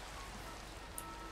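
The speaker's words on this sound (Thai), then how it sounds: "ฝนตกอีกนะ" Steady rain falls and patters across nearby surfaces in an even, continuous hiss, with no voices over it.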